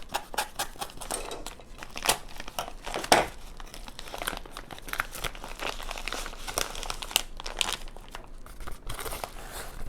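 Packaging is opened carefully by hand, close up and fairly quiet, with continual plastic crinkling and crumpling, occasional tearing and snips, and no talk over it.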